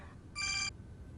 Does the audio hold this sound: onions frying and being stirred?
no